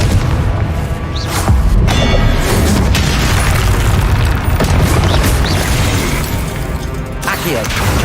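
Confringo fire spell explosions from Hogwarts Legacy, with loud booming blasts and bursts rolling across several seconds amid game noise and a voice.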